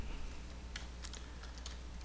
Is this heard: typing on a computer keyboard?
yes